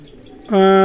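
Pigeon calls from a pair of running-breed pigeons, a sudden loud tonal coo-like note in the second half after near quiet.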